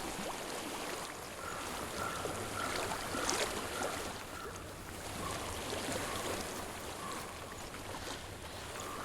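Flowing stream water in the video game Hellblade: Senua's Sacrifice, a soft continuous trickling wash, steady and fairly quiet, with a faint recurring tonal hum beneath and no speech.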